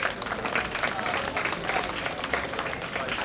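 An audience at a hairstyle show applauds, a dense, steady wash of clapping that stays even throughout.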